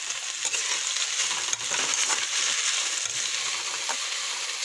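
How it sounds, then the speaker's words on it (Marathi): Chopped onions and spring onions sauté in oil over low heat, giving a soft, continuous sizzle and crackle with a few faint clinks and stirring scrapes throughout. "छान परतून घेऊ।"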